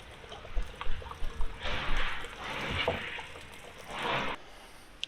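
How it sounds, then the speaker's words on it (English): Water rushes and splashes out of a trailer's hot water tank being drained, coming in irregular gushing bursts with short drips and trickles between them, close by and with no talking. "You do want to be careful when you're draining your hot water tank because the water is under pressure"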